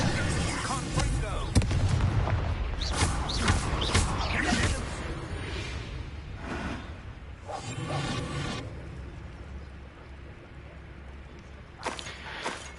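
A Confringo blasting spell goes off in Hogwarts Legacy, giving a few loud booming bursts and whooshes mixed with game sounds, with a voice speaking over part of it.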